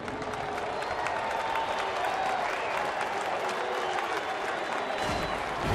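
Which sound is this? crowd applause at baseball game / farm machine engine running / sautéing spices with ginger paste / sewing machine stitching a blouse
crowd applause at baseball game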